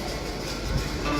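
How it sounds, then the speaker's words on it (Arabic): Al Boraq high-speed train at Rabat railway station, a steady low rumble of rail noise filling the short stretch, close and fairly loud with no talk. "هذه محطة القطار، وهذا قطار البراق."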